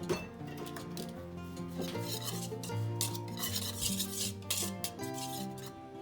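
Dry pancake ingredients, granulated sugar and salt, being stirred together in a mixing bowl, a steady scraping and rubbing with light clinks of utensil against bowl, close and continuous over faint background music.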